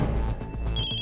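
A phone rings nearby with a repeating electronic tone, loud and clear for about a second, no talking.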